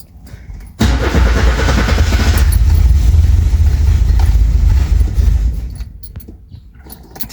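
Renault 5 engine fitted with brand new NGK spark plugs cranking and catching, firing up loudly after a short quiet lead-in, then settling into a rough idle that fades toward the end.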